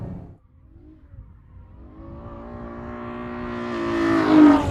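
A Ferrari F12berlinetta with electronic stability control switched off accelerates hard and oversteers, its engine note climbing steadily in pitch and loudness from near silence to a loud, close, rising howl by the end.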